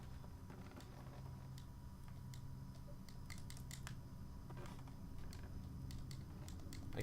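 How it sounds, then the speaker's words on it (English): Faint, repeated creaks and clicks of a wooden floor in the video game Little Nightmares, sparse and irregular over a low steady background hum. "This floor is so creaky."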